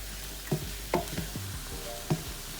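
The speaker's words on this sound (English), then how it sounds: "I'm adding my shrimp in here" Shrimp and vegetables frying in a pan give a low, steady sizzle under occasional sharp clinks and knocks of a utensil against the pan, close by and fairly quiet, with no talking.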